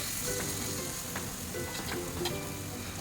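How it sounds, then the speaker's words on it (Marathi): Rava-besan potato batter is spooned into a hot oiled appe pan, producing a continuous close sizzle with faint crackles and no voices. "आपण जे मिश्रण तयार केलं आहे ते हळूहळू त्या कप्प्यांमध्ये सोडू अप्पे पात्राच्या।"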